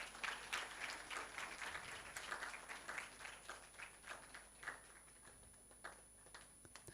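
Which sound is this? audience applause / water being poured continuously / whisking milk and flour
audience applause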